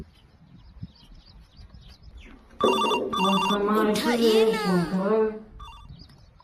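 A mobile phone rings with a bright electronic melodic ringtone while a call is placed to a contractor, lasting about three seconds after a brief quiet lead-in, with talking in the background.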